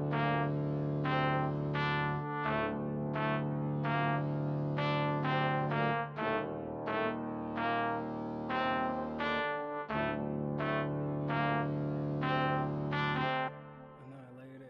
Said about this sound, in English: So the first sound I used was a brass from Purity.